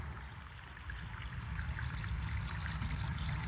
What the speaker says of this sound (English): I feel like the water drains so slowly.